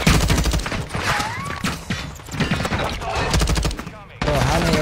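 Bursts of rapid gunfire rattle through a Call of Duty Warzone fight, loud and near, with dense repeated shots and a short pause before another volley, mixed with other game sounds.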